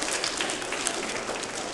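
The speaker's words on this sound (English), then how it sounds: "You can clap for it." Steady crowd clapping at a charity head-shaving fundraiser, a dense, even patter of many hands that holds for the full stretch with no voices standing out.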